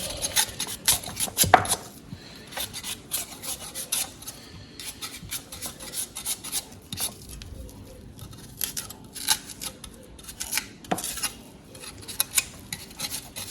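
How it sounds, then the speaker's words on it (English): A knife scrapes and shaves cocoyam skin in short, irregular strokes, each a faint rasp close by, with quiet pauses between cuts and no talking. "We are done with the peeling."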